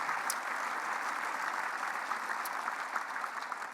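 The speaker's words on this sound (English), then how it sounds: "So let's give them a round of applause for what they do every day." An audience claps in appreciation of workers, a continuous, even burst of applause from many hands at moderate distance, with no voices over it.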